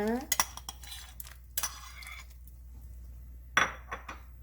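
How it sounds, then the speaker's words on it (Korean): Quiet kitchen sounds as sliced konjac is added to a pot of soup: a few clinks of utensils against the pot, soft stirring and light clatter, with faint sizzling underneath. "여기 썰어 놓은 곤약 들어갑니다."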